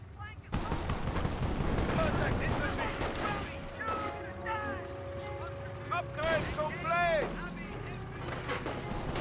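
Rifle squads firing in the real-time strategy game Company of Heroes, rapid crackling gunfire and bursts mixed with battle noise and whistling shells, heard under a continuous commentator's voice.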